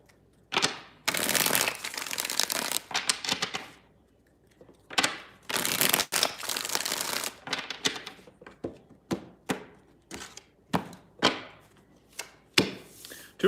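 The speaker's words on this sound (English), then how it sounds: "Let's get 4 shuffles." Tarot cards are shuffled by hand in several bursts, with long riffling rushes broken by short sharp taps and knocks as the deck is squared, close up and with no voices.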